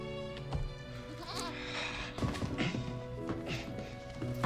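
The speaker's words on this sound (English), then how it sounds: "Trying to learn how to walk again by chasing a goat to eat." A goat bleats several times in a quiet outdoor scene, with wavering cries rising over a steady background hum and scattered light taps and thuds.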